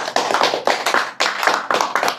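An audience at a religious talk claps hands in loud, rhythmic bursts, close and clear, with several groups of claps separated by short pauses and no talking.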